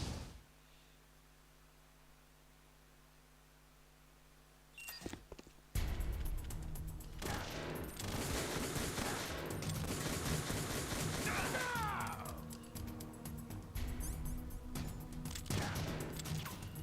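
Gunfire in Metal Gear Solid: The Twin Snakes: after a quiet hum, a sudden burst of rapid shots erupts into a loud, dense stretch of automatic fire and clatter that continues to the end.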